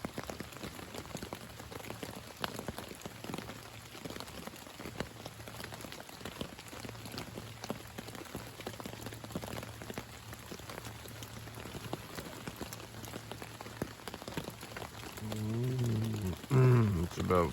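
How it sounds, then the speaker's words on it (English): Rain patters steadily on a hammock camp beside a river at night, a dense, even hiss of drops close by, with a brief louder rustle near the end. "It's now raining."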